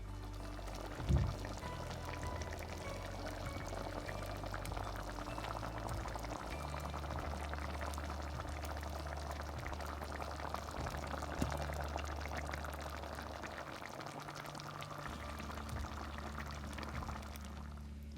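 Saltfish stew peas boiling in a pot over a medium flame, a steady bubbling simmer that runs continuously up close with no talk over it.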